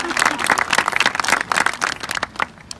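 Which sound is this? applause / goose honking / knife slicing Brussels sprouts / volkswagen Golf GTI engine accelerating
applause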